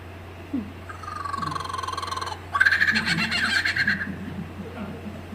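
Lyrebird in the Australian bush mimicking a kookaburra's laughing song, with two rising, rapidly pulsing cackling phrases that grow louder in the second half, over a low steady hum.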